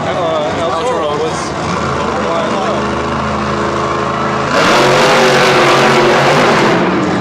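Monster trucks Whiplash and Wildflower race in a Monster Jam battle of the females in San Diego, engines droning and revving loudly before a surge of roaring power near the end, with a commentator talking over it.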